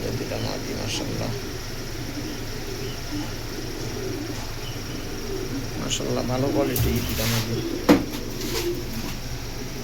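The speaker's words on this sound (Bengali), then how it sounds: "একটা অ্যালুমিনিয়াম জাতের কবুতর" Several aluminium-breed pigeons coo softly in a loft, two hens among them, with steady low murmuring throughout while someone speaks over the birds and a sharp knock sounds near the end.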